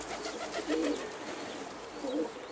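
A male pet pigeon or dove coos twice in soft, throaty rolling phrases, close by in a quiet room, with a pause between calls.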